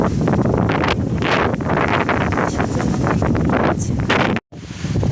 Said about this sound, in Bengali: আস্তে আস্তে বাতাস বাড়ছে আর মেঘ বৃষ্টি আরো বেড়ে চলছে।